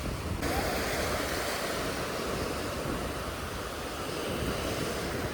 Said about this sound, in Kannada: ಅಲೆಗಳು ಹೇಗೆ ಉತ್ತರ ಕೊಡ್ತವೆ ನೋಡೋಣ.